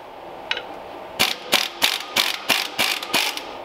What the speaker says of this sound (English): we're going to get a bigger wrench. We'll get your impact.